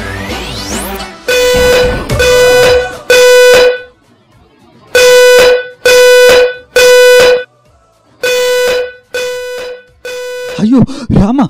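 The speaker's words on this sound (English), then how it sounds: "This is just a smoke alarm." A smoke alarm in a home sounds in loud, harsh electronic blasts grouped in threes with short pauses between groups, followed by brief voices at the end.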